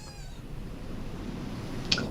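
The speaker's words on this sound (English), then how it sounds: "I think the kitty's dreaming. It's got its eyes closed and its mouth open, laying there. It's like meow, meow." A sleeping cat lets out a faint, brief meow from close by, a thin wavering cry at the start and then a tiny chirp near the end, over a steady low hum.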